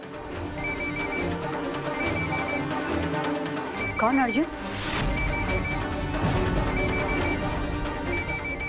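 A phone ringtone chimes in repeating bursts, with a short spoken question partway through over a steady background hum.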